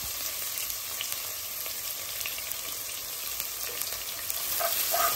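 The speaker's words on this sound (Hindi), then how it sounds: "रंग गुलाबी होने तक फ्राई करते जाइए हाई फ्लेम पर ही" Finely chopped onion and whole spices fry on a high flame, producing a steady, loud, crackling sizzle that swells slightly toward the end, with no voices.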